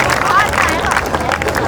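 Applause welcoming guests at an alumni meet: dense, steady clapping from a crowded audience for under two seconds, with voices and crowd chatter mixed through it.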